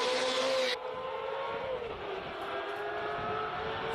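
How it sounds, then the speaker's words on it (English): A Ferrari race car engine at a classic street race in Cape Town drones past at speed, loud at first and then dropping in pitch as it pulls away into a steady, fading hum. "Glorious sound of a Ferrari."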